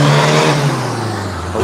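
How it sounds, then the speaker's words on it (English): A car on a city street rolls past with a loud, steady engine hum and road whir that swells close by and then eases slightly, dominating everything with no voices present. "just wait for that car to go."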